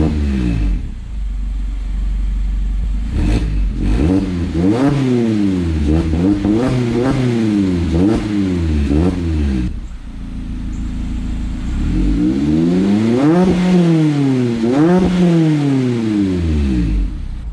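An ND Mazda Miata fitted with a Goodwin Racing race muffler starts up and idles, then revs repeatedly in sharp rising-and-falling bursts, loud and close, with a brief pause before another series of revs.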